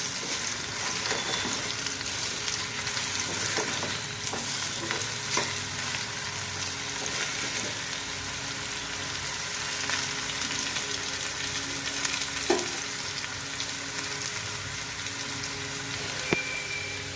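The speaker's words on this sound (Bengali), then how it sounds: "এভাবে আলু ভাজি করলে একটাও আলু ভাঙবে না, পুরো গোটা গোটা থাকবে" Potatoes with whole poppy seeds frying in a pan give a steady, dense sizzle with occasional stirring scrapes and taps, close and moderately loud, with no talk.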